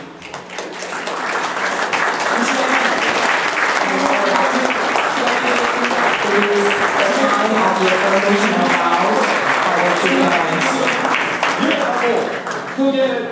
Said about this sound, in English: Please give another big round of applause to our beautiful couple descending the stage.